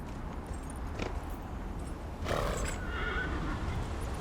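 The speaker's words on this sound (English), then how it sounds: "Horse!" A horse in the video game Dragon Age: Inquisition gives a loud whinny partway through, with clip-clop hoof sounds and a faint background ambience around it.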